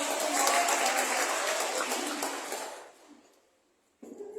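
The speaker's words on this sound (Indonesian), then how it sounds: "Boleh kasih tepuk tangan dong" Applause from a church talk audience: a steady wash of clapping for about three seconds that fades out, followed by a brief lull before a voice resumes.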